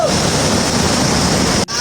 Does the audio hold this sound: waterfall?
yes